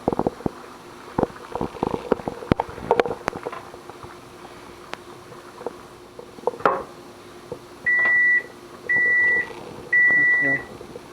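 A kitchen timer sounds three evenly spaced electronic beeps near the end, following clattering and rustling kitchen noises while fish soup is cooked.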